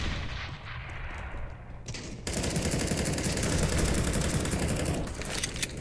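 AK rifle gunfire in the video game CS:GO, a quieter opening followed by a sustained burst of rapid, loud shots in a steady rhythm that carries on to the end.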